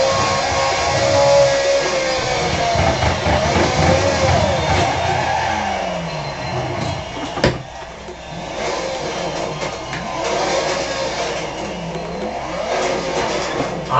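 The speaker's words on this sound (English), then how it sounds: "This Scuderia, I made it the best, I called it the best noise of the year" A Ferrari 430 Scuderia engine revving hard and accelerating, a loud raspy wail that climbs through the gears with a brief dip and a sharp pop midway before rising again, continuous and close.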